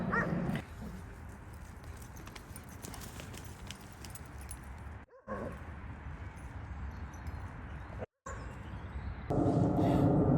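A dog moves around an open, vast dog walk area at a caravan site in Henley on Thames, with jingling and pattering sounds over steady outdoor background noise and no talking.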